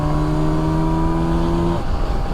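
Kawasaki Versys 1000 S motorcycle engine in sixth gear at about 73 mph and just over 4,000 rpm on a roll-on, a steady, close, tonal drone over wind rush that breaks off sharply near the end.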